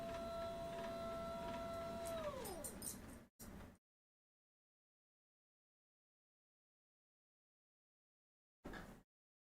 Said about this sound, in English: Standing desk, go into standing mode. We're going into standing mode. That is the loud whirring you're hearing.